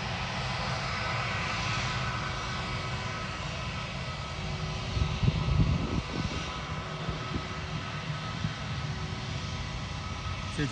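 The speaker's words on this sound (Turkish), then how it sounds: "Bir uçağımız daha gidiyor şimdi." A Turkish Airlines passenger jet passes overhead above misty mountains. It makes a steady, broadband engine roar that swells slightly midway, then holds at a constant distant level.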